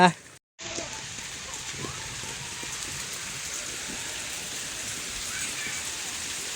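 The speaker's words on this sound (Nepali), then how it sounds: "पानी चाहिँ दर्किसकेको छ एकदम फुल स्पिडमा" Heavy rain pours down steadily in a Nepal downpour, a dense continuous roar of drops that fills the scene from start to finish after a brief moment of silence at the beginning.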